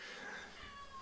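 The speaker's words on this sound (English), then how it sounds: "At who's meowing to come in." A cat meows to be let in, a short nearby call lasting about a second with a faint hiss of background noise around it.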